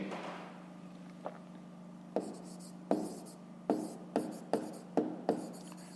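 Pen or pencil writing by hand during a fifth-grade maths exercise, with a steady low hum underneath and a series of short scratchy strokes that grow more frequent toward the end.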